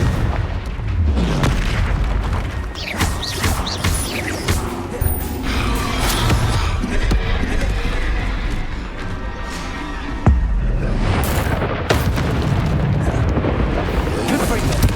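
Heavy booming blasts from the Confringo spell in Hogwarts Legacy roll out one after another amid rumbling battle effects, loud and continuous, with voices shouting over the combat.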